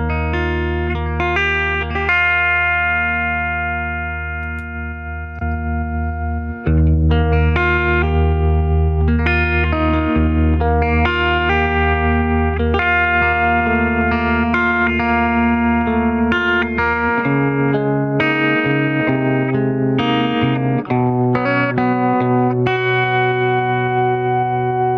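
Electric guitar through a Fender Deluxe Reverb amp with reverb, vibrato and pedal compression plays a ringing melodic passage with sustained chords, a brief pause near the start and a lower register later, loud and alone.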